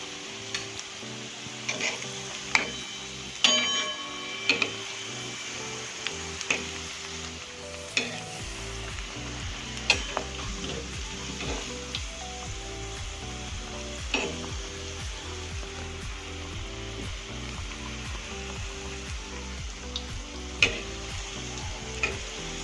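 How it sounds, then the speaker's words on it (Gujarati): Maggi noodle Manchurian balls deep frying in hot oil give a steady, close sizzle, with irregular ticks and small clinks from a utensil stirring the pot throughout; no talk. "હવે આપણે આ રીતે બધા બોલને વારાફરતી ડીપ ફ્રાય કરી લઈશું."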